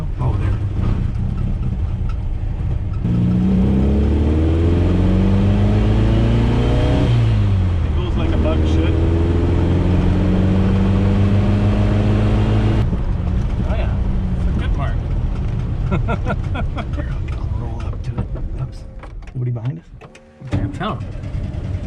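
A pink 1969 Volkswagen Beetle idles and revs on its first drive, the engine note rising and falling in sweeping pitch changes before settling into a rougher, uneven running sound that dips near the end, with voices mixed in.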